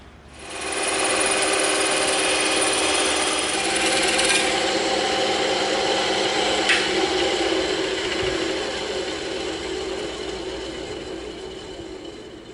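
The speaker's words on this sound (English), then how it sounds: "There's all our pieces cut out on the bandsaw." A bandsaw cuts EVA foam pieces, a loud, steady whirring rasp that starts after a moment and runs on, with small shifts as the blade works through the foam.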